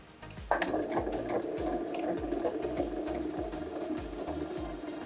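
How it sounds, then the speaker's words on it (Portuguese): A sewing machine stitches along fabric lining. It starts abruptly and then runs in a quick, regular mechanical patter, close and fairly quiet, with no one talking. "Seguro firmemente, vou puxando meu tecido, deixando ele alinhado e faço essa costura."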